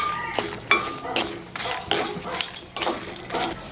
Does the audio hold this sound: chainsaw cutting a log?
no